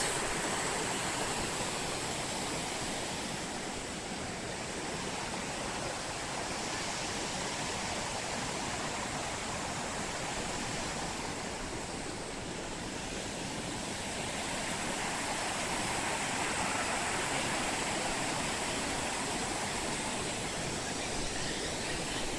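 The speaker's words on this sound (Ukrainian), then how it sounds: "Водоспад." Glencar Waterfall in County Leitrim, Ireland, pours with a steady, full rush of falling water, a constant broadband roar that swells gently at times, heard close and alone with no voices.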